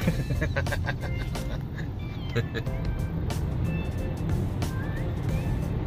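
Road traffic passing near a boating trip at Rice Lake, Ontario, with heavy traffic heading onto Highway 401 East; a steady low rumble of vehicles runs throughout under scattered talk and laughter.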